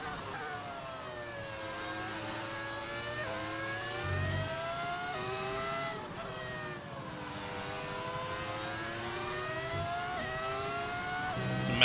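Old-style Formula 1 engines revving on modern cars in the F1 25 racing game, high whining notes rising and falling through gear changes across a continuous stretch of driving.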